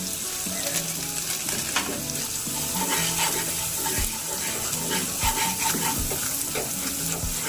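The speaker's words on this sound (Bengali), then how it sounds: "লাল লঙ্কার গুঁড়ো দিয়ে ভালোভাবে সমস্ত মশলা কষে" Cumin and red chili powder frying in a pan while being stirred, a steady soft sizzle with scraping strokes and a few sharp spatula knocks, close and fairly quiet.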